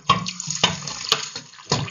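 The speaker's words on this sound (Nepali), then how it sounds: "यसलाई हामीले चिसो पानीले एकचोटि फेरि पखाल्नु पर्ने हुन्छ" Cold water splashes and runs over laphing starch dough being rinsed for making laphing, with several sharp splashing bursts over a steady trickle, close and fairly loud, with no talk.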